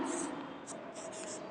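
A teacher writes on a board during a Hindi grammar lesson, producing short, soft scratchy strokes in quick bursts over a quiet room, with her voice talking faintly underneath.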